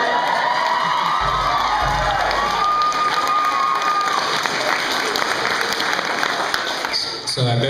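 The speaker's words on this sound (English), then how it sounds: "After this song, I better hear you clap" A college talent show audience claps and cheers loudly after a comedy song, a dense sustained roar of applause with whoops and shouting voices mixed in, fading slightly near the end.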